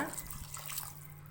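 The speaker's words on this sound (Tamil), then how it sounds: "இப்போ குழம்புக்கு தேவையான அளவுக்கு தண்ணி சேர்த்துக்கங்க." Water is poured into a pan of oily brinjal gravy, a brief close splashing gush over a low hum, alone and with no talking.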